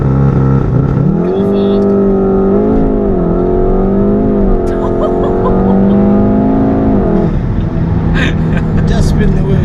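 A 400 bhp APR Stage 2 tuned VW Golf R Estate launches hard under launch control, its engine note climbing loud and steady for several seconds before easing off, heard from inside the car with the tyres spinning.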